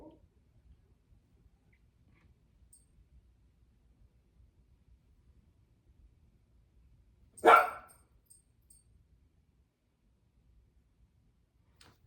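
A dog, indoors, gives a single loud bark partway through an otherwise near-silent stretch.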